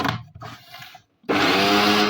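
Cauliflower pieces with greens, garlic and onion churned in a blender in two short pulses, a brief whirring burst, a pause, then a loud close steady motor roar with no voices.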